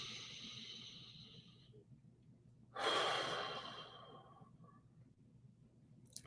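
A single deep, audible breath taken during a guided meditation. It is close and unaccompanied, rising and fading over about a second against a faint, steady room hum.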